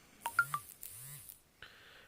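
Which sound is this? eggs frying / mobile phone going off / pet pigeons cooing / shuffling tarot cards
mobile phone going off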